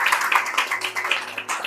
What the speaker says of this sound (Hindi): जोरदार ताली बजाकर परमेश्वर का धन्यवाद करें